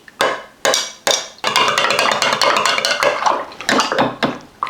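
A teaspoon stirs honey into lukewarm water, clinking loudly and repeatedly against the sides of the vessel in a quick, uneven rhythm of metallic taps, close up with no talking.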